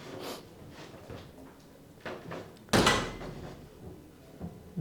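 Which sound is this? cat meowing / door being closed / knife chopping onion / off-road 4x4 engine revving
door being closed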